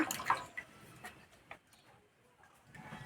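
Neem leaves washed in water: faint drips and small splashes, a cluster of sloshing at first, then scattered quiet drops in a hushed room.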